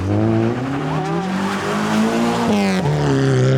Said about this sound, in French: Crawford New est clairement encore en train d'apprendre où sont les limites de sa voiture